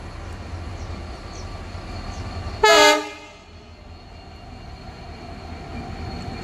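A passenger train bound for Banaras passes on the Bhavnagar–Veraval line, sounding a brief loud horn blast amid steady rumbling, then the noise settles back into a continuous rail drone.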